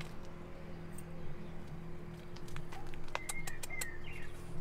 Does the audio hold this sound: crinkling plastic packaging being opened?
no